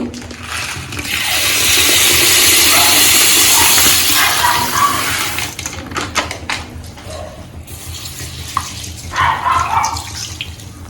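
Water runs loudly from a tap onto 1 kg of jeera samba rice being soaked for mutton biryani, a strong gushing stream that eases into softer splashing and trickling.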